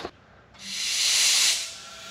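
Compressed air rushes from a shop air hose as its on-off valve opens, a steady broad hiss swelling to a peak and easing slightly, close and alone with no talk.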